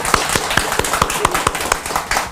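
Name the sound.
audience clapping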